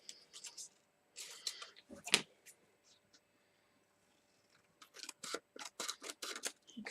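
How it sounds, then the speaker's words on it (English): Scissors cut out paper pieces for a stamped fridge magnet holder craft, quick snipping bursts near at hand, with a gap of silence in the middle before a faster run of cuts. "Cut that one out."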